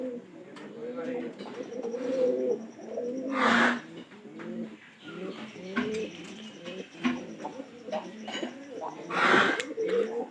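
Pet pigeons, a cock and a hen, coo in repeated throaty rolls close by, with bursts of wing flutter and faint background chatter.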